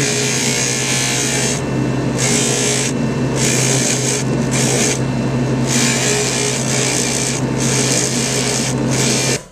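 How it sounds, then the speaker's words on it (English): A leather chamois polishing wheel whirs steadily on a silver bracelet, with a constant mechanical drone and a higher hiss that swells and drops as the piece is pressed against the spinning leather. "Putting the shine on the bracelet, and I'm using a leather wheel"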